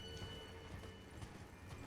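Faint hoofbeats of horses clip-clopping in the Elden Ring: Shadow of the Erdtree video game, soft irregular thuds under a dense, low game ambience.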